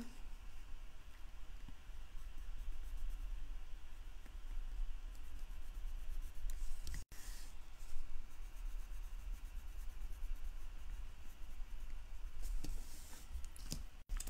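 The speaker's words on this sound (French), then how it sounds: "je suis venue colorier son chapeau" A red colored pencil rubs over a card, a soft continuous scratching heard close and faint, with brief breaks and no talking.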